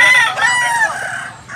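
A lemon-type gamefowl rooster, about ten months old, crows loudly and close by in one long drawn-out call, with no talking over it.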